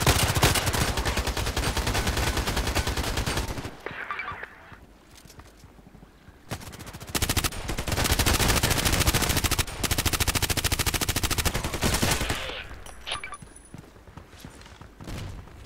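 Heavy automatic gunfire from a teammate in the shooter game Contract Wars comes in long, loud, continuous bursts, with short quieter gaps between the volleys.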